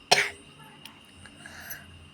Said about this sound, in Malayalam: ചുമയുള്ളതുകൊണ്ട് ചുമച്ചാട്ടോ.